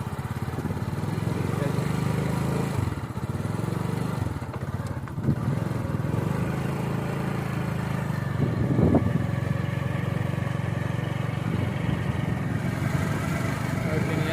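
A motorcycle rides along an unpaved dirt road through green wheat fields near Sialkot. Its engine drones at a steady mid pitch the whole way, close and continuous, with slight dips as the throttle eases.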